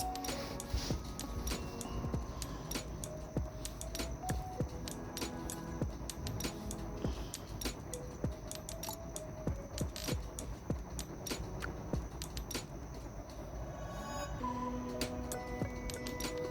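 A stand mixer kneads hot dog bread dough on high speed, a continuous motor whir mixed with rapid rhythmic ticking and knocking of the dough hook and bowl, close and fairly quiet.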